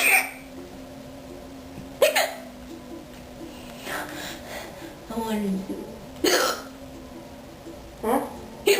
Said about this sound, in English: Maybe if I hiccup loud enough, one of the nurses will come in.